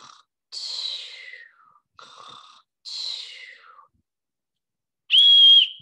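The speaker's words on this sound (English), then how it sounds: "I'm going to blow my whistle." Several whistle blasts, some sliding downward in pitch, separated by short pauses, ending with one loud, steady shrill toot.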